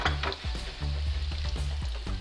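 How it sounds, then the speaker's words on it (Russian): Vegetable oil heats in a frying pan on a stovetop, giving a steady crackling sizzle with small pops and clinks throughout, without any voices. "Сейчас мы поставим сковородку и подогреем растительное масло."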